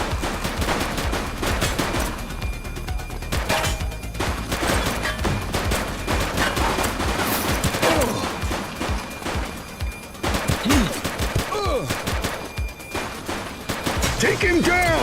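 Loud, sustained gunfire from a police video game, The Precinct: rapid bursts and overlapping shots run almost without a break, with brief game voices mixed in.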